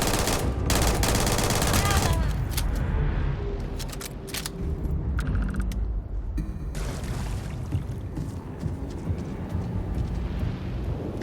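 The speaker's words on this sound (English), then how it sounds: "this is my new favorite gun" Rapid bursts of gunfire from a newly acquired gun in the Starfield video game, loud and dense at first, then continuing as scattered shots and rattling volleys under a busy game soundscape.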